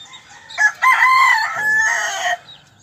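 A rooster crows loudly and close by, its long call rising and holding, with hens clucking around it during feeding.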